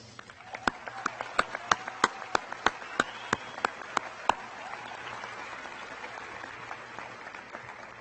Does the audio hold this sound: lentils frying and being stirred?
no